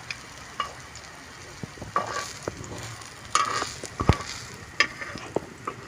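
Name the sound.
chicken kebab patties frying on a tawa griddle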